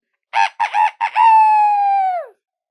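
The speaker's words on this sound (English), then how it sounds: "Roosters say cock-a-doodle-doo." A rooster crows close and loud, three short choppy notes followed by a long sustained falling call, alone against silence.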